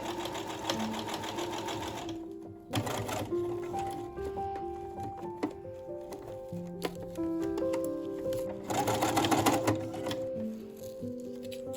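A sewing machine stitches the outer gathered layer of a skirt at the waist, running in rapid, close bursts of needle chatter with short pauses between them. Soft background music plays underneath.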